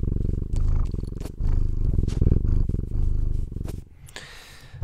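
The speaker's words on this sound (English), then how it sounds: "I hope you can hear her purring," A cat purrs steadily while resting on a person's lap, a close, continuous rumbling purr that pulses with each breath and stands alone without talk.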